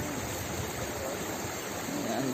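Water from a natural spring flows in a constant rushing wash, like a small stream, close by and even in level throughout, with no voices.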